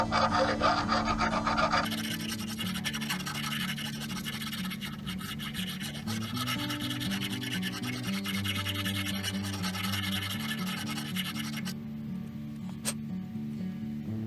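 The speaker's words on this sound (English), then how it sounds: "file down any rust, any kind of corrosion on the inside where the bushing just came out of. You need a round file for this." A round file rasps steadily against the corroded inside of a door hinge bushing bore, scraping out rust in continuous back-and-forth strokes over a constant low background hum.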